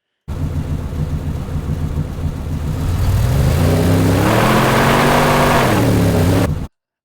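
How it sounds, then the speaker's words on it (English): An engine hums steadily, then revs up around the midpoint into a rising, louder whine that holds before cutting off abruptly. "I think that works pretty good for our engine taking off"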